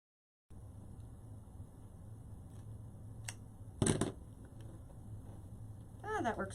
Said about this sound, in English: I could just cut it out.